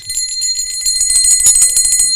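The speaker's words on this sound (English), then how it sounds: "The dinner bell." A small dinner bell rings in a quick run of bright, shrill metallic strikes, close and loud, ringing alone for about two seconds.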